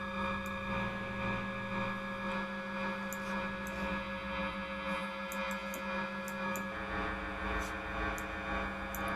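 Dark, droning industrial tones from a Mutable Instruments Elements synthesizer, with a steady low hum and sustained harmonic layers, punctuated by faint high metallic blips, continuous and fairly loud with no voices.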